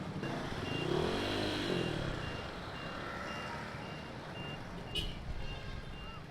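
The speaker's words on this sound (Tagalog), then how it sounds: "Ayun, traffic." Street traffic in Cavite, Philippines, heard from a Honda Click 150i scooter, with engines humming nearby and a truck's steady reversing beeps repeating at an even rhythm throughout, fairly faint, and no one speaks.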